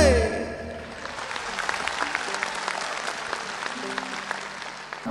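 An audience applauds in the Sala Palatului concert hall after a live song with orchestra, a dense, steady clatter of many hands that follows the closing musical notes.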